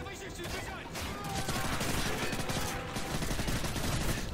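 Dense, continuous gunfire and rapid bursts in Call of Duty: Modern Warfare 3, a Stronghold mission battle, with a loud, sustained barrage filling the whole stretch and no clear talk.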